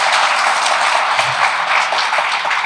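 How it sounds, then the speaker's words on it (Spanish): Church congregation giving loud applause for the Lord during a Spanish-language sermon, a dense sustained burst of many hands clapping with no talking. "Un fuerte aplauso para el Señor."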